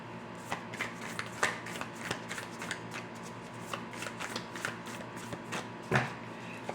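Tarot cards are shuffled close by in a steady, papery riffle of rapid flicks and soft slaps, continuing unbroken for several seconds.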